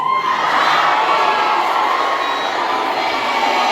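An audience at an International Women's Day gathering screams and cheers together, a loud, sustained burst of shouting and whooping that starts abruptly and holds steady.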